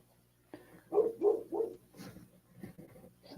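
A small dog outdoors yaps three times in quick succession, then gives a few softer, scattered barks, sounding a short distance off.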